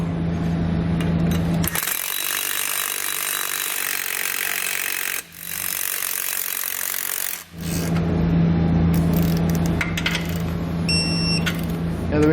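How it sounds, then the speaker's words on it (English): A 9/16 socket snugs lock nuts on a spring bracket while Firestone Ride-Rite Red Label Extreme Duty air helper springs are installed; a sustained metallic whirring run sits between duller clunks and shop noise, close and fairly loud. "Then we'll grab that 9/16 socket and we'll snug up both of the lock nuts"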